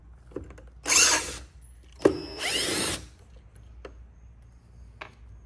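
A power drill backs bolts out of a plastic wire retainer in two short high-pitched whirring bursts, close and loud, separated by a sharp clack and followed by faint clicks and handling sounds.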